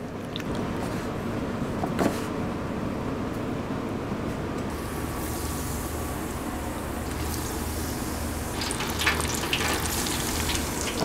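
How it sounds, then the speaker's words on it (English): Bluegill perch frying in oil, a steady broad sizzle running the whole time at moderate level, with a few brief clicks and bumps of utensils over it. "Okay, I'm going to fry up my bluegill perch first."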